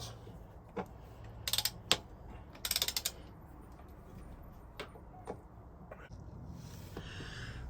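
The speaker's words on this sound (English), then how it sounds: "in the instructions of this amazing Aldi torque wrench it says do not use it for removing bolts, but for now that's what I've got" Ratcheting clicks from an Aldi torque wrench loosening engine bolts during a teardown, in short bursts of rapid clicks around steady low background noise, moderately close.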